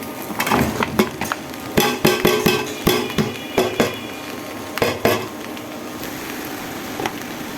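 On an induction stove, a metal spatula stirs chopped bottle gourd in oil in a pan, scraping and knocking against the metal in quick irregular clusters of loud clanks, with brief pauses between them.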